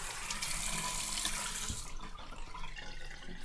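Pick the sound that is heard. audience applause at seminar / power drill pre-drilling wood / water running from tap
water running from tap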